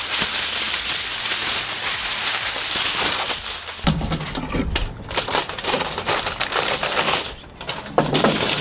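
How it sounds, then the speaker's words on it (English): Crinkling and crunching of aluminum foil being wrapped over a smoked brisket, a dense close crackle that turns into intermittent rustles and crumples. "we'll just take some aluminum foil"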